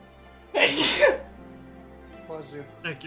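A single loud sneeze bursts out close up in a Final Fantasy online game session, followed by quieter murmurs and small vocal sounds as the room settles.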